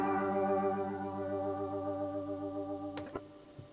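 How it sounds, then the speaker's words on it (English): Electric guitar with an ethereal effects tone from the Line 6 Helix Native plugin, a single sustained chord that rings out, shimmers and slowly fades, then a brief pick scrape near the end, heard alone. "you can hear that just with a couple of effects, I've got this really nice ethereal kind of tone"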